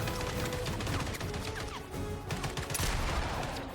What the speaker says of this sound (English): Let's see if shotguns are awesome or shit in this game.